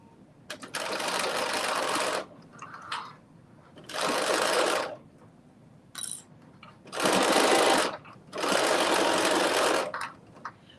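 A sewing machine stitching power mesh lining to dress fabric runs in four steady bursts of a couple of seconds each, separated by short pauses, close and clear.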